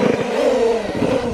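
A pit bike revs out on a frozen pond, its small engine buzzing steadily at close range throughout the short burst, with a slight rise and fall in pitch.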